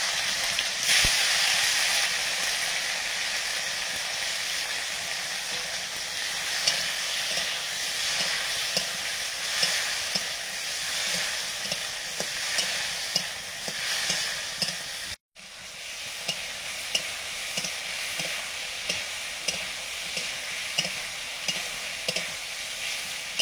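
Dried chilli, cumin and chopped tomatoes fry in hot oil, a loud continuous sizzle with periodic stirring clicks and a brief break partway through.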